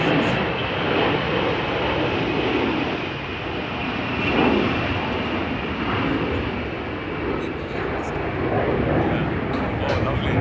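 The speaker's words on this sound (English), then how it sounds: "I think we have to wait for the aircraft to cross by." An aircraft passes over a golf course during an amateur championship, a broad, steady engine rumble that holds throughout and swells slightly mid-pass, with voices faintly present.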